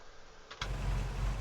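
A truck engine in the Farming Simulator 22 game cranks over and catches about halfway through, then settles into a steady, loud, low idle rumble.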